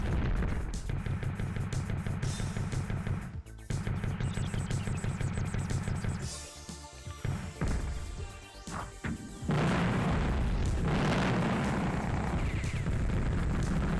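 Missile bunker blowing up in the PS1 tank game Mass Destruction, a loud crashing blast over a constant engine drone and game music, with heavy rumbling debris and a renewed roar near the end.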